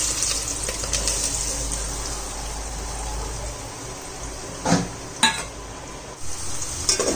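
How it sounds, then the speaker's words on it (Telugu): Onion and green chillies fry in hot oil, giving a continuous close sizzle broken by a few sharp stirring scrapes near the end, with no talking. "ఆయిల్ అయితే హీట్ అయిపోయింది. ఇప్పుడు ఉల్లిపాయ పచ్చిమిర్చి వేసేద్దాం."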